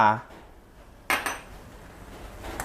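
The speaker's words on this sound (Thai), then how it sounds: "คนให้น้ำตาลละลายก่อนครับ" A spoon stirs sugar into an agar jelly mixture in a pot, giving a few sharp clinks and scrapes against the metal in short separate bursts, with a brief voice at the very start.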